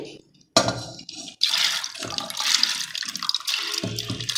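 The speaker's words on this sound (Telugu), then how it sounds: "ఇప్పుడు మనం మళ్ళీ దీనికి వాటర్ యాడ్ చేసుకోవాలి" Water splashes and gushes steadily into chana dal after a brief quiet start, a continuous rushing pour close by with small fluctuations.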